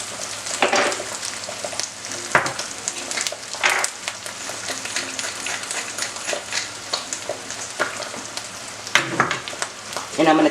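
An egg fries over easy in a pan on medium-low heat, sizzling and crackling steadily with occasional sharper pops.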